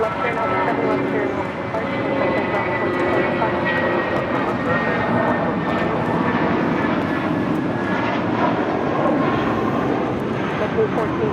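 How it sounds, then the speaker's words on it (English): A JetBlue Airbus A320 departing LAX for Los Cabos roars steadily on takeoff, a loud, sustained engine rumble filling the whole stretch with a voice talking over it. "This is JetBlue Airways, flight 1463, taking off, no, not to New York, Los Cabos, an A320"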